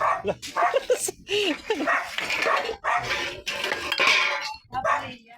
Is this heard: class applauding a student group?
no